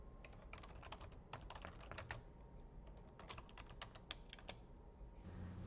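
Faint typing on a computer keyboard, irregular bursts of quick key clicks with short pauses, close but quiet over a low background hiss.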